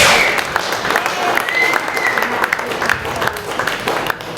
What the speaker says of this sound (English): Big round of applause for Sandra Opperman.